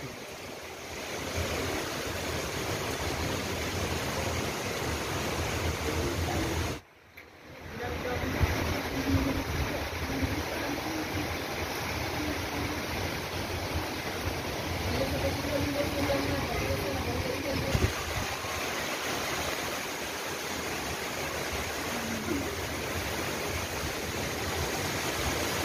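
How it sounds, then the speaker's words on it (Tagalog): Strong typhoon wind and heavy rain during Typhoon Odette in Ubay, Bohol, a steady loud roar of gusts and downpour lasting throughout, with one brief drop-out and a voice speaking faintly beneath. "Ang grabe, lakas na talaga ng hangin, mga kaibigan, no? Lumakas pa yung ulan lalo."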